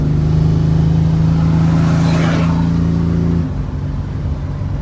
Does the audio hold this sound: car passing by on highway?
yes